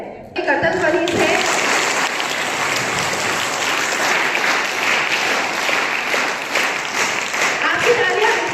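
An audience at a school career fair applauds to welcome the principal and a teacher, with dense, steady, loud clapping that starts abruptly and carries on without a break.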